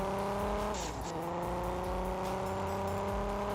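Continuous car engine drone with a brief pitch shift and faint tire noise, steady and close throughout, from a car driving in a parking simulation game, with no talking.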